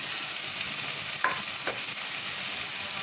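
Chicken masala frying in a pot as whisked yogurt is stirred in, a continuous soft sizzle under a couple of brief scraping stir strokes, no voices.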